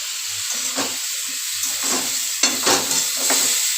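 Potatoes and pointed gourd fry together in a pan, a constant hiss of oil punctuated by several bursts of stirring and scraping, close and alone with no speech.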